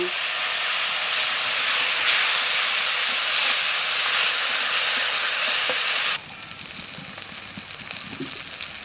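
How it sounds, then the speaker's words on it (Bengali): Kheri sizzles and hisses as it fries in a pan, a loud, dense crackle that suddenly drops to a quieter, softer sizzle partway through, as if the heat is lowered or the pan is moved. "খেরো ভাজা হয়ে গেছে এইবার নামাই দেবো"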